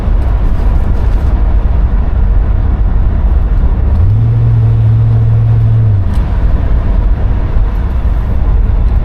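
A 1972 Buick GS engine accelerating under a little throttle, a low steady rumble with a brief rising drone in the middle, heard from inside the moving car with road noise.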